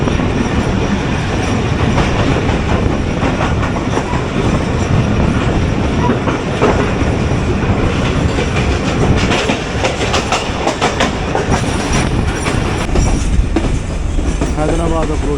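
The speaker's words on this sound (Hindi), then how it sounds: "अब कराची एक्सप्रेस जो है वो हैदराबाद स्टेशन से निकल चुकी है" The Karachi Express passenger train rolls through Hyderabad with a loud, continuous rattle of carriages and rhythmic wheel clatter on the rails, heard from on board with occasional squeals.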